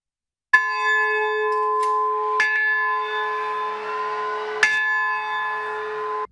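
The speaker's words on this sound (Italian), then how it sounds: "43 rintocchi di campana" A large church bell tolls three times, each strike leaving a long, sustained hum that carries into the next.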